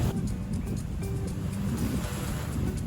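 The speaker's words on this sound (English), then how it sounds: "Just the sound of the waves crashing on the shore is enough to lull you to sleep." Continuous low rumbling surf on a Florida beach with wind buffeting the microphone, a steady wash of waves with no clear pauses.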